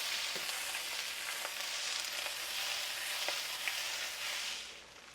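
Corn sautéing in butter in a pan gives a steady, close hiss of frying with faint crackles and small pops all the way through, softening slightly at the end, and no voices.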